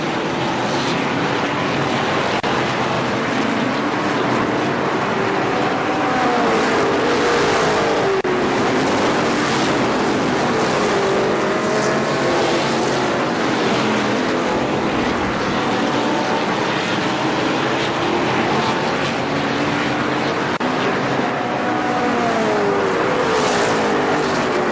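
ARCA SuperCar stock cars racing at Kil-Kare Speedway in 1998, a loud continuous roar of engines with passing cars swelling and fading throughout and no voices.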